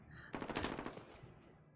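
A short burst of MP5 submachine gun fire in a team deathmatch video game, a quick rattling volley that peaks sharply and trails off, heard alone.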